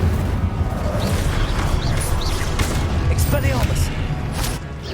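An Incendio fire spell is cast during a Hogwarts Legacy duel, with bursts of booming, crackling combat effects layered over dense battle noise and shouted character voices.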